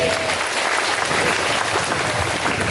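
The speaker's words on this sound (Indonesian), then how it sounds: "Tepuk tangan." A crowd applauds continuously at a new-student welcoming ceremony at Unitri university, dense clapping at an even, strong level from start to finish with no speech over it.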